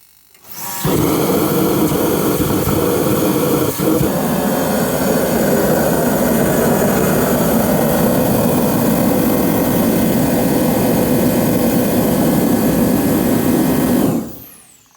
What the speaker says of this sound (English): Let's get this heater on.